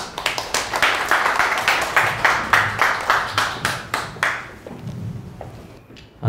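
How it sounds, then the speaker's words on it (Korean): Audience at an NFT seminar applauds to welcome a presenter on stage: a run of steady, fairly close, rhythmic claps that thins out and fades toward the end. "큰 박수로 맞이해주시기 바랍니다"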